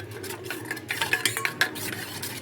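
Chili powder and spices being mixed with a little water in a small bowl, soft scraping and clinking of a spoon stirring close by for a couple of seconds.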